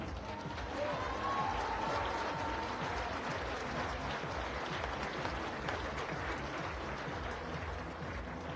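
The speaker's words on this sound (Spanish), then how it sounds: "Fuerte aplauso para todas ustedes." Sustained applause from a crowd at a DIF Tepeaca activities report event, steady clapping that swells slightly early on and continues without a break, heard from some distance.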